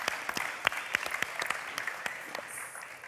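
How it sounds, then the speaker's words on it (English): Light, scattered clapping for sponsors at a startup pitching competition award ceremony, a small audience producing distinct individual claps that thin out toward the end. "Applause for the sponsors,"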